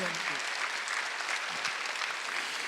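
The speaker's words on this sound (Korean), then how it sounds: "박수로 하세요" Church congregation at a Sunday worship service clapping together, a steady, full sound of many hands, with a preacher's voice briefly audible near the start and middle.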